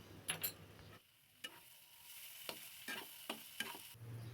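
Spice masala fries in a pan with tomato ketchup and slit green chillies, a soft sizzle broken by several separate scraping and clinking stirs of the spoon, quiet and close, with no speech.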